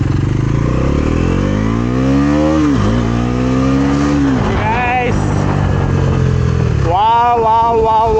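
A Bajaj NS400Z motorcycle pulls away from a start, its engine note climbing in strong rising sweeps through quick gear changes, loud and close, with a person speaking over it.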